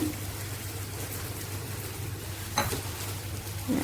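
Spicy pitha batter pressed into hot oil in a wok gives a moderate, even sizzle with a brief clatter of handling partway through.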